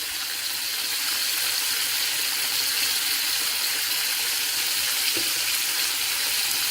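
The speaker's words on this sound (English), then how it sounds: "Alright, so that's how you cook that shrimp, with kosher salt and Old Bay seasoning" Shrimp seasoned with kosher salt and Old Bay sizzle in an oiled pan, a steady close hiss of frying that runs throughout with one small clink near the end.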